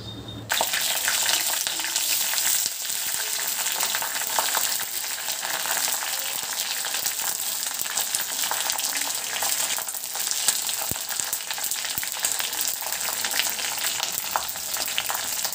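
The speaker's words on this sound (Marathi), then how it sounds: "फोडणी घालताना जसा आवाज होतो तसा आवाज व्हायला हवा, तसा तडका या फुलांना बसायला हवा" Hibiscus flowers sizzle in hot oil in a pan, a steady, dense crackling hiss that starts abruptly and continues evenly, with occasional faint stirring clicks.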